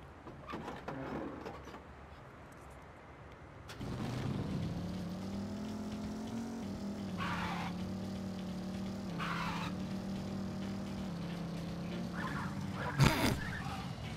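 A car in the No More Heroes video game ramming into other cars, a steady engine drone with harmonic hum after a brief lull, broken by a few bursts of crashing impact noise and a sharp hit near the end.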